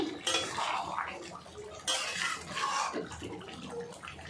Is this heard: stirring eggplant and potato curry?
yes